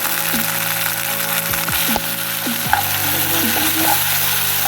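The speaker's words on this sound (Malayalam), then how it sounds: "വരട്ടി കൊടുക്കുന്നു" Loud, continuous sizzling of curry sautéing in a hot clay pot while a spatula knocks and scrapes against it every half second or so.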